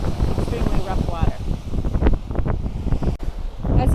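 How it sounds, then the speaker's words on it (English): Rough, extremely choppy ocean surf surges up onto the shore, with wind buffeting the microphone throughout and repeated breaking wave crashes rising and falling. "the waves are coming right up to"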